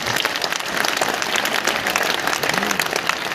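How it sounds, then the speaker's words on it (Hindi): A large crowd at a political rally claps with raised hands to honour Prime Minister Narendra Modi, a loud, dense, continuous roar of applause with no pauses. "हम दोनों हाथ ऊपर उठा के ताली बजा के अभिनंदन करें"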